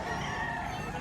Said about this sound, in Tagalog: Yan ang mga manok.